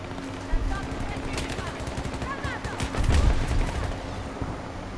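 Rapid bursts of game gunfire crackle continuously, with repeated machine-gun rattles and a deeper thump of an explosion mid-way.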